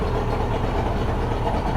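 A cheap outboard motor idles steadily at close range, a continuous low mechanical rumble with a constant even tone and no voices over it.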